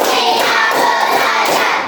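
A group clapping their hands together during a classroom clapping game, producing a loud, dense and continuous patter of close claps for about two seconds.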